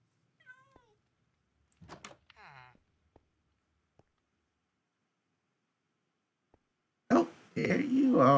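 A cat meows in the video game Minecraft, a few short separate calls near the start among quiet gaps, followed by a louder dense burst of sound at the end.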